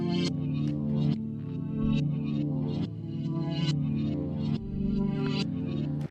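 A reversed melody pitched down an octave for a beat plays alone, swelling notes that each rise then cut off sharply, with a low sustained body over roughly six seconds.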